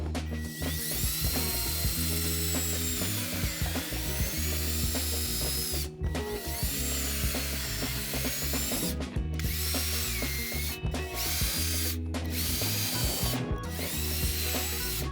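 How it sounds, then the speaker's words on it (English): A power drill whirs into wood drilling pilot holes in several bursts, close and loud, with brief pauses between bursts. "What I'm going to start with is drilling the pilot holes."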